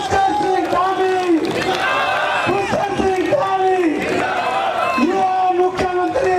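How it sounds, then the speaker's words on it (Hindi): A crowd at a BJP district office event cheers the chief minister in Roorkee, with chanted slogans and shouting voices rising over a steady crowd roar, loud and close. "मैं स्वागत के लिए अपने माननीय मुख्यमंत्री का जोरदार तालियों से स्वागत किया जाए।"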